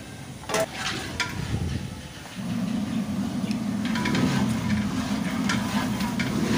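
Mutton karahi with tomatoes stirred in a pot, starting with scraping and clatter of the spoon, then settling into a steady, louder frying sizzle.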